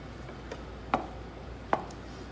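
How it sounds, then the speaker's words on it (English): A knife slices through mushrooms on a cutting board, making two crisp, distinct chops about a second apart with a faint tap before them, close and clear in a quiet kitchen. "Mushrooms, we're just gonna cut in half"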